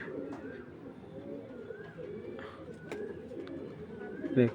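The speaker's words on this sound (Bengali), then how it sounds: "এই যে 25-এর কবুতর, এই যে এই বছর রেজাল্ট করছে" Racing pigeons cooing in a loft, with soft, repeated low coos overlapping at close range and a few brief chirps, with no talking.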